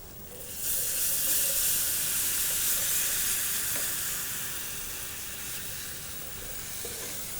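Loud hissing sizzle of food frying in a casserole pan starts suddenly and continues steadily, easing slightly in intensity over time, with faint clinks underneath.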